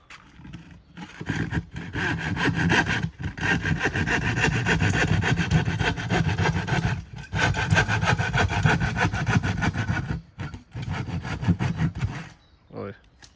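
Steady back-and-forth strokes of a hand saw cutting through a wooden board, continuous rasping with brief pauses between bursts, close and fairly loud.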